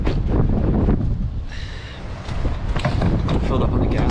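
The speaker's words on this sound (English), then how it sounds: "I just want to have you guys hear how fucking windy it is." Strong winter wind buffets the microphone outdoors at a ski town, a loud continuous rumbling roar that briefly eases midway before gusting back hard.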